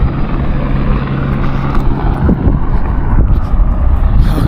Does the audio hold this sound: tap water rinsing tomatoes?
no